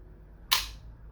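A G&G LevAR airsoft rifle, just fitted with an adjustable trigger, fires one sharp, snappy shot close up, heard alone against a quiet background.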